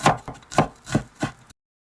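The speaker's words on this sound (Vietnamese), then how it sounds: "Thêm 25g tỏi mình cũng băm nhỏ ra luôn ha." A knife minces garlic on a cutting board in four evenly spaced, dull knocks, close by, then silence.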